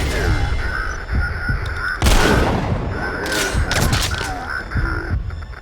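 Gunfire in the game Metal Gear Solid V, a handful of heavy, booming shots spaced a second or so apart with a loud burst near the middle, under a steady game hum and some talk.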